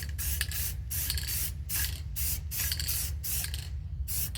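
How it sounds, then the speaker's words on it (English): A rifle gets light coats of spray paint from an aerosol can: a series of about eight short, close hissing bursts in a steady stop-start rhythm, separated by brief pauses. "Well, I'm painting my gun."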